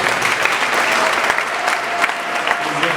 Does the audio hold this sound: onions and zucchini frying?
no